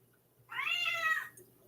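A house cat meows once, close and clear, a single drawn-out call of about three-quarters of a second, with a quiet indoor room before and after.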